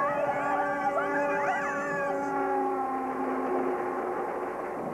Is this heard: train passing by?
yes